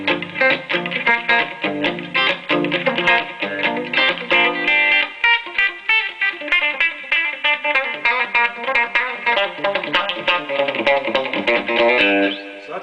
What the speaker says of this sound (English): So that's a nice clean reverb.